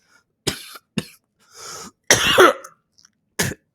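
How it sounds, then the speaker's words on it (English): Several sharp coughs close to the mic in separate bursts, one a longer rough fit, with silence in between and no talking. "That cough had to come at a worse time."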